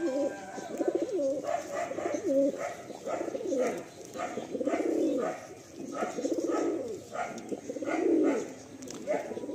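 A pair of black Madrasi pigeons of the Pecha Mukho breed coo close by, repeating soft rolling coos in a steady rhythm through the whole stretch.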